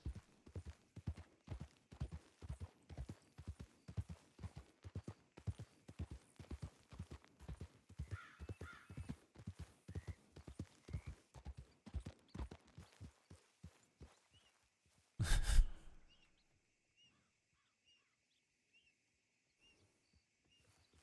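Horse hooves clip-clop in Red Dead Redemption, a steady run of even, moderately loud hoofbeats that stops suddenly after a short loud burst, leaving near silence with faint high tones.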